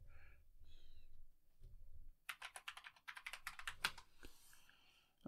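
A password typed on a computer keyboard, a quick run of close, crisp key clicks in an uneven burst, preceded by soft breathing and faint sounds.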